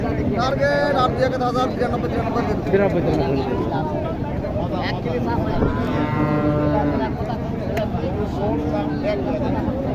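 A Sahiwal or Sindhi breed cow moos in long, drawn-out calls at a cattle market in Naogaon while people talk nearby, voices and lowing overlapping throughout.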